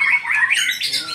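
A white-rumped shama (murai batu) sings at a songbird contest, a bright run of squawking, warbling notes sustained close and loud, with no talk over it.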